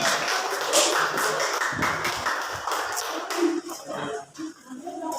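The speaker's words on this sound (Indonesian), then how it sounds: "Tepuk tangan buat teman kalian." Students in a classroom clap for their classmates, a burst of scattered, overlapping claps that thins out toward the end as a few voices come through.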